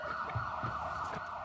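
An ambulance siren wails steadily at moderate volume as a comedic sound effect, a continuous high tone over a low background rumble, with no talking.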